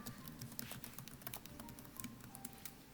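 Typing on a computer keyboard to enter a class comment: quick, light key clicks in an irregular patter, close and quiet, with no talking.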